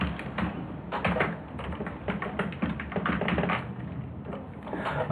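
Rapid, irregular clicking of a computer keyboard as code for an if-else program is typed, close and clear, with short pauses between bursts of keystrokes and no talking.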